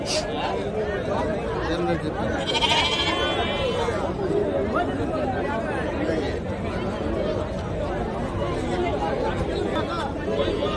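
Goats bleat at the Angallu goat market among a busy crowd, with short calls rising over constant chatter and nearby voices haggling.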